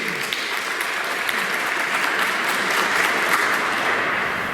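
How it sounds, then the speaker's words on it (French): A church congregation at Mass applauds steadily and fairly loudly, a dense, continuous patter of clapping filling the space throughout. "Oui, on peut l'applaudir."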